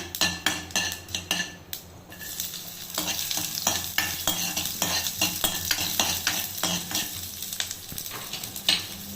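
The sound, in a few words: fenugreek and shallots frying in oil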